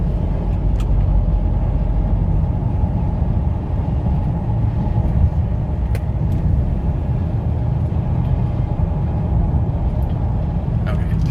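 A 2007 Ford Explorer Sport Trac V8 4WD cruising near highway speed as it kicks out of overdrive, a steady deep engine and road rumble from inside the cab, loud and continuous with someone talking over it.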